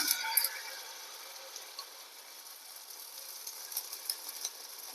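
Bun dosa batter sizzling on a hot pan, a soft continuous crackling hiss with faint scattered pops, fairly quiet and close, no voices.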